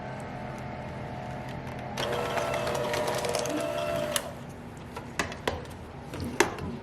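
An electric mixer on low speed whirs for about two seconds while combining gluten-free chocolate chip cookie dough, then stops, leaving a few light clunks and taps nearby.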